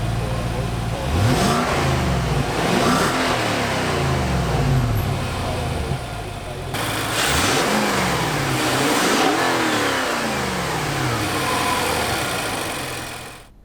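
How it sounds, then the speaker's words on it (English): A naturally aspirated V8 engine in a 2017 Nissan Armada fires up and revs repeatedly, rising and falling in loud throaty surges, then blips again after a short pause. "Nothing sounds quite as good as a naturally aspirated V8"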